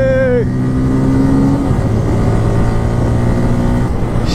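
A Bajaj Pulsar N250 motorcycle engine revving loud and close, its pitch climbing then holding in steady drones, with a voice briefly heard at the start.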